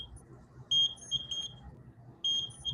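Electronic sensor on a student-built project device beeping in short high-pitched tones, a cluster of several quick beeps followed after a pause by another group, over low background room noise.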